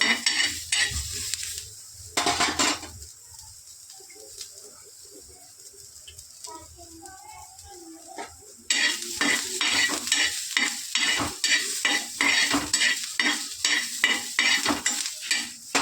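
Onions fry in a pan with garlic for chicken rassa, giving a steady close sizzle with spoon scraping and stirring strokes, quieter in the middle, then a louder, denser sizzle returns.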